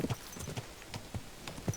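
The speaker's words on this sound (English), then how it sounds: "So, our new horse, or Godwin's horse." A horse's hooves clip-clop in Kingdom Come Deliverance II, with about a dozen soft, evenly spaced hoofbeats at a walking pace. They sound moderately distant and faint, with no talking.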